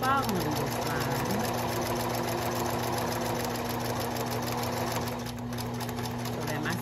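A Singer 5825C sewing machine runs steadily while stitching a straight line, its even motor hum and rapid needle rhythm continuous throughout, with a person speaking over it.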